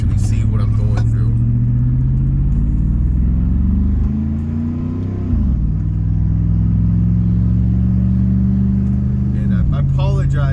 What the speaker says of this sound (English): It's just loud because the muffler is rusty and full of holes.